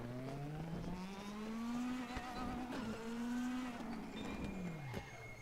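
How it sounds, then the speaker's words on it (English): Wheelspin from a DTM race car in the DTM Experience video game: a sustained, rising and falling tire squeal over a droning engine, fairly loud and continuous for several seconds with no talk. "I'm spinning the inside wheel there."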